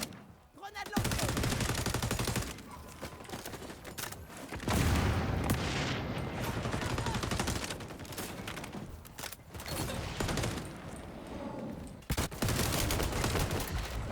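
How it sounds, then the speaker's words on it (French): Rapid gunfire bursts and a heavy grenade blast boom loudly from the XDefiant shooter game, repeated volleys with short gaps and faint voices underneath. "Grenade lancée."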